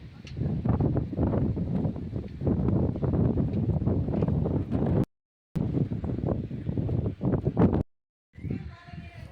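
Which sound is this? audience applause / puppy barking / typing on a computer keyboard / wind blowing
wind blowing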